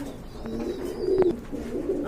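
Pigeons in a seller's collection coo in low, drawn-out calls, one clearer burble rising midway over a steady background of other birds murmuring nearby.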